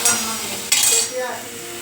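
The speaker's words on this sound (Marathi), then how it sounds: "आता हे छान परतून घेऊ" Masala paste for masala dosa filling sautéed in a pan, heard as short metallic scrapes and clinks of a spoon against the pan over a light sizzle, loud and close.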